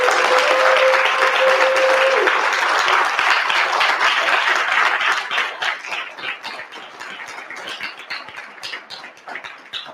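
An audience in a lecture hall breaks into loud, sustained applause for Dr. Claud Anderson, dense clapping that thins out toward the end, with faint cheers mixed in.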